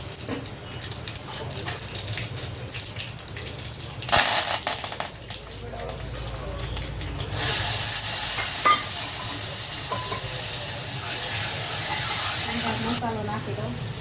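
Cumin, mustard seeds, urad dal, chana dal and whole spices crackle and sizzle in hot oil for a sambar, a steady frying hiss with stirring clatter and a few sharp pops, fairly loud throughout.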